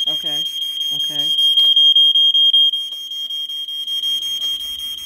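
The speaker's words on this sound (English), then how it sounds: "it doesn't sound in the continuous piezo, it sounds in a pulse pattern" A Gateway Scientific Smokey Stover 4001 smoke detector sounds its piezo alarm in a rapid pulsing pattern, a loud, shrill beep chopped into quick bursts that runs throughout, with a brief voice near the start.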